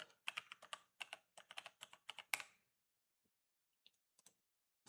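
Quick bursts of keystrokes on a computer keyboard as an email address is typed into a login form, a dense run of clicks for over two seconds, then a few isolated taps and silence; close and clear, no talk.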